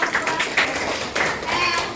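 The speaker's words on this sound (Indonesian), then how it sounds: "Tepuk tangan dong." A group in a classroom or hall claps after a presentation, a fairly loose, uneven patter of hands with distinct individual claps standing out, and voices murmuring underneath.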